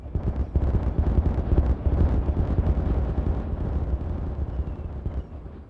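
Explosion in the beaver colony-building game Timberborn, a loud, sustained rumbling blast with crackling debris that fades over several seconds, heard alone.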